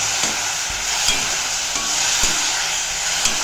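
Bitter gourd simmers in tamarind water in a pan, giving a steady, close bubbling hiss, with a few soft taps of a spoon against the vessel.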